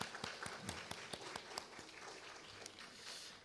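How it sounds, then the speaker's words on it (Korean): Scattered clapping from a church congregation, a handful of distinct claps rising into brief, thin applause at moderate distance, fairly faint with some room noise. "박수로 한번 격려하십시오"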